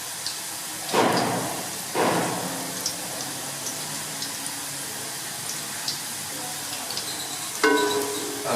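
Garlic frying in a pan for bhindi, a steady low sizzle running throughout with a few louder bursts of hissing and clatter near the start and end.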